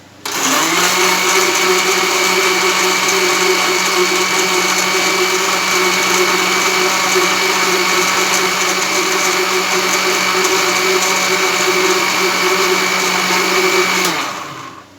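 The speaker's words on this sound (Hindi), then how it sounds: "इनको मैं थोड़ा सा ब्लेंड कर देता हूँ।" An electric blender whirs continuously on egg whites for about fourteen seconds, a steady loud motor drone that starts and stops abruptly, with no voices.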